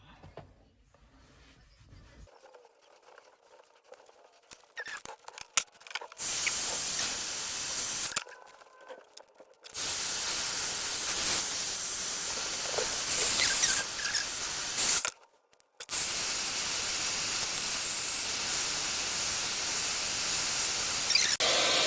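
A hot hair iron presses through freshly blow-dried rebonded hair, steam hissing: quiet handling at first, then long loud bursts of hiss, a brief silence, and a final sustained steady spray of hiss.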